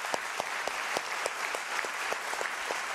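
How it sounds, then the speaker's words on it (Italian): Audience applause for the Propaganda Orchestra in a live television studio, a dense steady clapping with sharp individual claps standing out, loud and continuous throughout. "Applauso alla Propaganda Orchestra"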